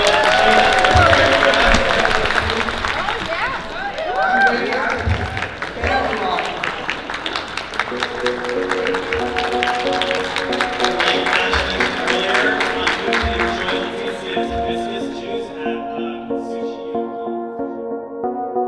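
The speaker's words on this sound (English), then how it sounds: "Let's just give another huge round of applause for Leticia and the amazing meal" A dinner crowd at a refugee chef's pop-up meal gives a round of applause, a dense wash of clapping and some cheering that fades while people keep talking over it.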